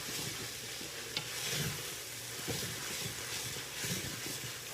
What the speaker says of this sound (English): So I just saute that for maybe a minute, a couple of minutes at the most, to really get those flavors bind into the meat